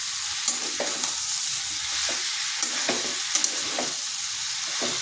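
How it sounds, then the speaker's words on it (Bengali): Jackfruit stir-fried with spice paste in a pan: steady close sizzling and frying with repeated scraping stirs of a spatula, no voices. "এটা ভালো করে কষিয়ে নিতে হবে যাতে এঁচোড়ের গায়েও মশলাটা ভালোভাবে ঢুকে যায়।"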